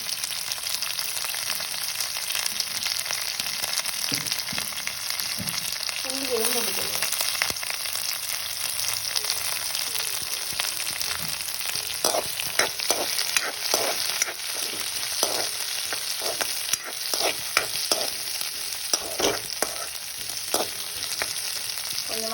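Chopped onions and leaves sautéing in hot oil as the base for a vilai fish curry: a continuous close sizzle and crackle, with intermittent clicks and scrapes of stirring throughout.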